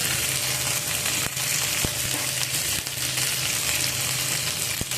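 Chopped flat beans and spring onion stalks sizzle together in a hot pan, a loud continuous frying hiss close by with a few sharp clicks from stirring or utensil contact, no talk.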